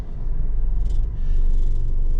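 A low, heavy rumble with steady vibration from a Jeep Renegade shuddering hard in gear due to worn motor and transmission mounts, continuous and close throughout.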